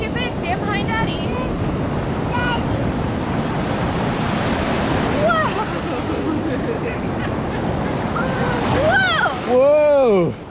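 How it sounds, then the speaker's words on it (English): Ocean waves breaking at Kure Beach, a continuous roar of surf with wind buffeting the microphone, while children's high voices call out over it near the end. "Look at all those waves."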